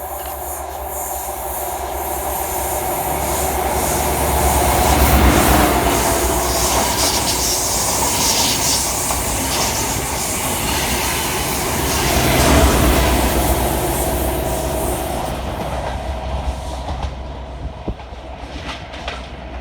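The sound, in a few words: Class 43 HST locomotives passing fast through station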